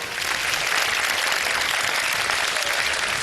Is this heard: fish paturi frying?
no